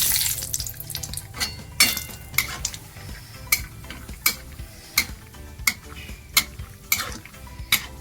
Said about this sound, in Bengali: এর মধ্যে কিছু চিনে বাদাম আমি ভেজে নেব।